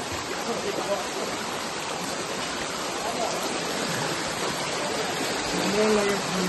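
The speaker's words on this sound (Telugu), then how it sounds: "ఈ కొండల నుంచి జలపాతం జారుతూ పడుతుంది." The Penchalakona waterfall pours down the hills in a steady, dense rush of water that fills the whole stretch, with faint voices rising near the end.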